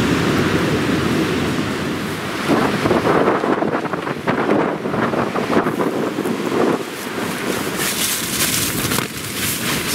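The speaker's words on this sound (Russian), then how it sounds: "Ветрища." Strong wind buffets a campsite in the open, roaring loud and constant across the whole stretch with gusty surges and heavy rumble against the microphone, no voices.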